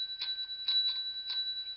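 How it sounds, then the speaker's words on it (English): A Yorkshire Terrier rings a small bell in a counting trick: four or five light, bright metallic dings spaced unevenly, close and moderately quiet, with no talking. "Ring the bell five times."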